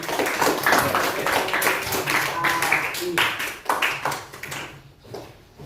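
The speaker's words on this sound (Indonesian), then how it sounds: "Beri tepuk tangan." Classroom students clapping in a lesson on poetry reading, a busy patter of claps close by mixed with voices and chatter, tapering off near the end.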